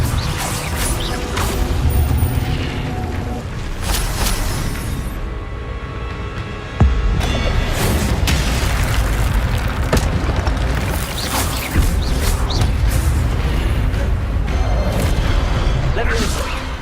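Fire spell effects in Hogwarts Legacy, loud booming whooshes and crashes in a busy, continuous stream of game combat sound with repeated impacts.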